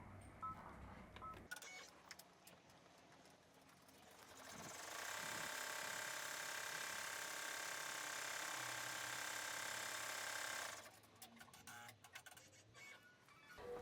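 Embroidery machine stitches a final triple-stitch outline, a steady rapid mechanical whirring and ticking that runs for several seconds between quieter clicks and handling noises, fairly faint overall.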